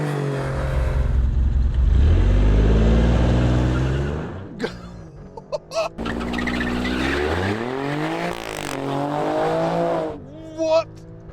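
A 2021 Alfa Romeo Stelvio Q SUV driven hard on a racetrack, its engine revving loud and close through rising gear pulls, with sharp shifts and brief pauses between bursts of acceleration.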